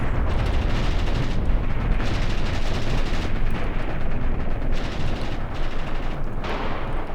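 Battle fire in Graviteam Tactics forms a dense, loud, continuous barrage of overlapping shots and booming blasts, rolling on without a pause.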